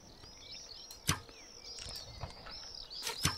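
Several arrow shots from a Minecraft skeleton whoosh past with sharp thwacks, one loud near hit early and another near the end, over faint background ambience.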